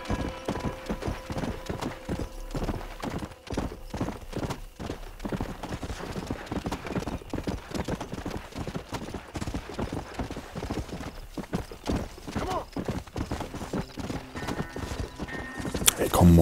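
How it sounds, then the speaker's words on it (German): Horse hooves clip-clop steadily in the Western video game Red Dead Redemption, a continuous rhythmic trotting close by, with an occasional whinny and someone talking over it. "Pferd, Pfeffi, bitte."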